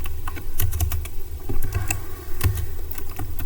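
Rapid keystrokes clatter on a computer keyboard while a router's access control list is being configured, with irregular clicks at close range and a few firmer presses like the enter key, no voices.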